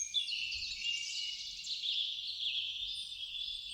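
A birdsong ambience sample is played back in Ableton as a sound-healing atmosphere layer. It gives a dense, continuous wash of high chirping and twittering that is steady and moderately soft, with faint low rumbles underneath.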